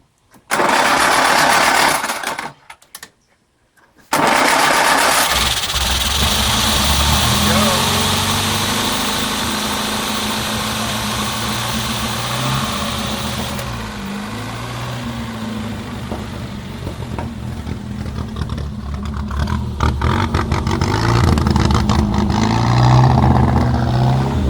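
A rare 1934 Singer 9 Le Mans car, likely with a failing head gasket, cranks and catches after a brief silence, then runs with a loud, steady, rough idle for the remaining twenty seconds, close to the microphone.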